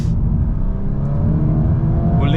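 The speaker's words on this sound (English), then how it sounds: "This car already sounded absolutely amazing when the owner came to see me." Engine note of a 2025 VW Golf R Black Edition (MK8.5) while driving, a steady loud low rumble with a slight rising rev throughout, close and continuous with no talk.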